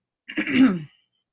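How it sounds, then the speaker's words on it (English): A single short, rough throat-clearing cough, close and fairly loud, followed by silence. "Excuse my cough."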